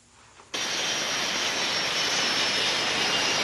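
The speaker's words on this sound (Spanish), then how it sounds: "Procedan a despegar los aviones Sukhoi 30 MK2, aviones F-16 y aviones K-8" Military jet aircraft, Sukhoi Su-30MK2, F-16 and K-8, taking off during a Venezuelan armed forces exercise; after half a second of quiet, a loud, steady engine roar bursts in and holds to the end.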